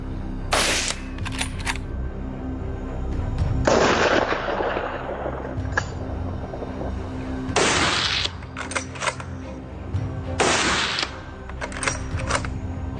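A deafening volley of gunshots fired at animals bolting onto a trail, heard as loud, sharp blasts arriving in clustered bursts with ringing decays between them, close and forceful, with no talking.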